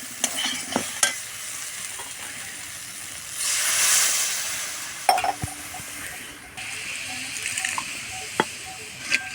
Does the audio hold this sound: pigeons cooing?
no